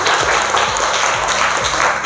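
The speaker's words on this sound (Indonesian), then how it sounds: "Oke, tepuk tangan dulu buat kalian" Classroom students clapping together in a lesson, a dense, loud burst of many hands applauding close by throughout the short stretch.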